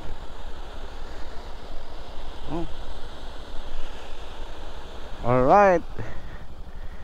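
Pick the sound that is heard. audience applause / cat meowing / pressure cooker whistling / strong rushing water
strong rushing water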